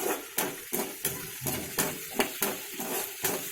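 Ginger and other ingredients for mudakkathan kuzhambu sautéing in a pan, with a steady sizzle broken by regular scraping stirs about every third of a second, close and fairly loud.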